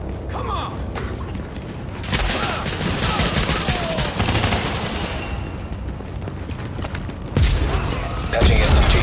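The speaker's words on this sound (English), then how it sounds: "We're taking heavy fire." Heavy gunfire in The Division video game, with dense overlapping bursts of shots and mechanical clatter, loud and continuous and growing heavier toward the end.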